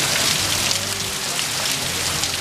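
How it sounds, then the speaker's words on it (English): Heavy rain falls steadily outside during a flooding downpour in Memphis, a dense continuous patter on surfaces with no voices. "It's raining outside."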